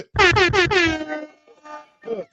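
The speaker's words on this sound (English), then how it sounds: "There will be random air horns coming through." A loud blaring horn blasts in several quick pulses, then trails into a sustained tone before a couple of shorter bursts follow.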